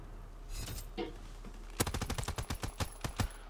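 Gunfire in a WW2 first-person shooter, a burst of rapid sharp shots after a quieter lead-in, loud and close with an uneven rhythm.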